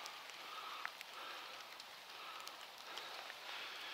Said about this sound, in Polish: bo deszcz pada, wszystko mokre, śliskie